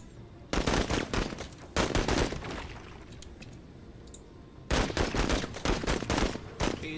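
Gunfire in the video game MENACE comes in loud, rapid automatic bursts with a lull in the middle, then another heavy volley.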